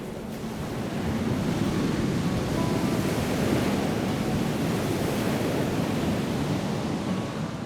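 Ocean surf at Waimea Bay, Hawaii, makes a loud, continuous roar of breaking waves with a wind-buffeted wash and no voices.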